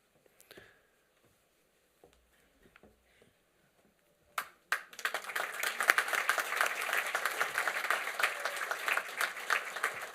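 At a university commencement ceremony, a few scattered claps and small noises come first, then a large audience breaks into sustained, dense applause for the graduates that fills the hall.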